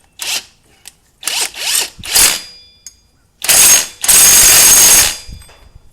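Several short bursts of a pneumatic impact wrench tightening a new axle nut on a 2008 Rancher, then a longer sustained run, loud and close with brief pauses between.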